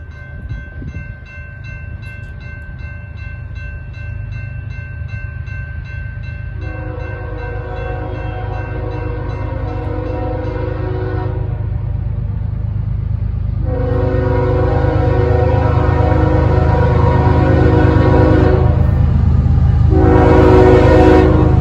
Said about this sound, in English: I noticed a triangle of headlights of a westbound train quickly approaching